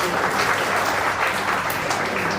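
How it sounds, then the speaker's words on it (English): Audience at a young authors' book launch clapping in a steady, dense round of applause that stays loud and even from start to finish, with no voices over it. "A big round of applause please,"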